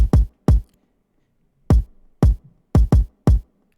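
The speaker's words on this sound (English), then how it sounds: "and I have a kick that sounds like this." 80s-inspired synthwave kick drum hits, deep punchy booms in an irregular pattern of seven strikes, loud, dry and alone.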